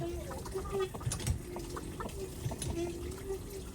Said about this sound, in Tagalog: nilalapitan na ng tandang